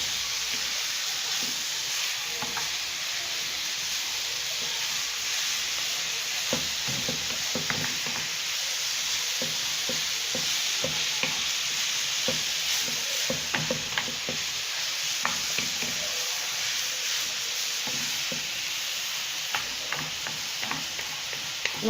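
Meat and onions sizzle steadily in a pan on the stove for a bourek filling, a constant hissing fry with occasional stirring clicks and pops, heard alone.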